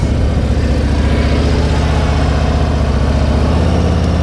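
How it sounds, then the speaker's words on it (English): A motorcycle engine holds a steady throttle through a slow-speed turn, a loud, close, even low drone with a constant pulsing rumble that stays level throughout. "You hear my throttle? It's the same the whole time."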